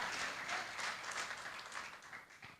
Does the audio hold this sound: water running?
no